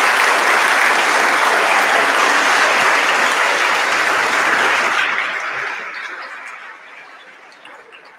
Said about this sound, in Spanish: los invito a dar un fuerte aplauso para ellos